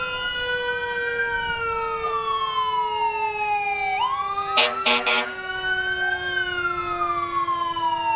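Tramway Fire Department engine 24 sounds its wailing siren loud and close at an outdoor Christmas parade, the pitch sweeping up and down, with a brief air-horn blast in the middle.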